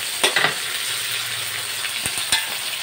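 Tomato and chili sizzling in a pan over a strong flame, a steady close crackle with a few sharp clicks and taps of utensils on the pan.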